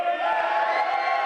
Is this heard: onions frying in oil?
no